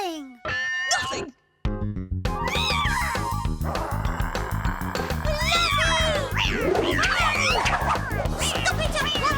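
A cartoon cat meows and yowls amid a loud, busy soundtrack of music and lively effects, with brief cries standing out over the clutter.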